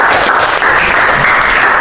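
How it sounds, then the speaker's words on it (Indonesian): Students in a volleyball lesson burst into loud, close applause, a thick continuous roar of clapping hands that fills the short moment without any speech. "Oke, tepuk tangan."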